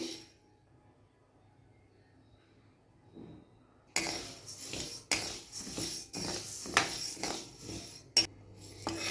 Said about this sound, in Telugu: ఫ్లేము సిమ్ మీదనే పెట్టి మంచిగా వేయించుకోవాలండి, దూరగా వేయించుకోవాలండి.